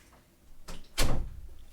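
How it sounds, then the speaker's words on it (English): A door swings shut with a soft first contact and then a firmer, louder thud, heard alone at close range in a quiet room. "Door closed."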